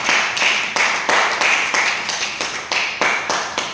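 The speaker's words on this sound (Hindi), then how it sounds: "आप सभी लोग अपने लिए एक बार शानदार ताली बजा लीजिए" A crowd claps together in a burst of steady, rhythmic applause at a close, busy pace, with strong regular hand claps filling the room throughout and no voice over them.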